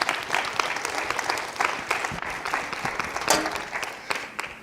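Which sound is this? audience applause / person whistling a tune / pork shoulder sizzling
audience applause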